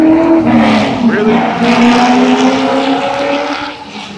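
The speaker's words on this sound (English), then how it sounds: "All these cars interrupting me while I'm vlogging." Cars passing close by on a road, with loud engine drone and tire noise sweeping past and slowly fading, while a person talks over it.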